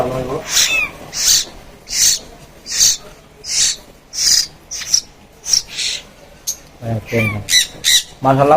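Loud, harsh squawking calls from a mynah bird, repeated in short bursts about every half second, close by, with brief human voices mixed in.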